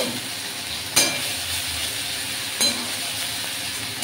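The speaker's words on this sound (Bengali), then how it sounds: "তো এর মধ্যে আমি রসুনটাও দিয়ে দিলাম আর একটু নেড়ে আসছি।" Onion paste and garlic frying in a pan, giving a steady soft sizzle throughout with two brief stirring scrapes, close and fairly quiet, with no talking.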